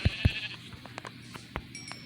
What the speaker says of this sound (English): Since I do have the wool and the mutton on me, I will go ahead and harvest these sheep.